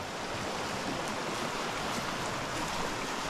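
Swift creek water rushes through a steep wooded ravine, a steady, even roar of flowing water that holds at a moderate level with no voices.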